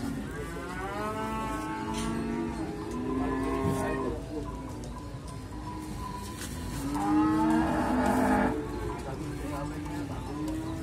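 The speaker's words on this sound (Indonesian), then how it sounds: "Ini adalah sapi-sapi dari daerah Yogyakarta teman-teman." Several cattle moo in long, overlapping lowing calls over a busy, noisy crowd background at a livestock market in Muntilan, some near and some farther off.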